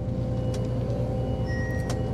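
Steady low engine drone and broadband rumble of a Claas Trion 750 combine harvester driving, continuous and close throughout, with a faint brief hiss and thin tonal whine near the end.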